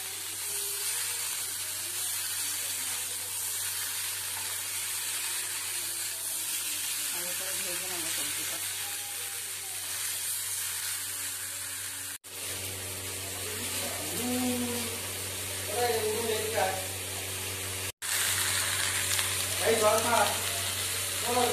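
Panch phoron spices frying in a wok give a steady sizzling hiss that runs through the whole stretch, with a voice talking over it in several bursts.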